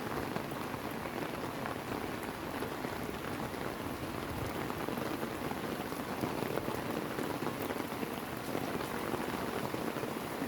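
Steady, dense rain pattering on a road in the Philippines, a continuous even hiss of drops with no voices, constant in level throughout.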